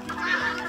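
One brief cluck from a local chicken on a farm, a short nearby call lasting under a second with no other sound around it.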